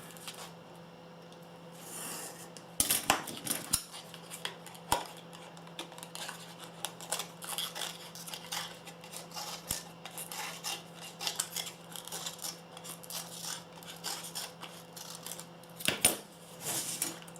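Scissors snip through card in repeated crisp cuts, with scraping and rustling between them, close and steady throughout.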